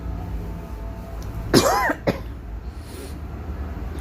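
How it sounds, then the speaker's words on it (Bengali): A woman with a lingering cold gives one harsh, throaty cough close to the microphone, followed by a short second catch of the throat, against a quiet indoor background. "খালি কাশি গলার মধ্যে।"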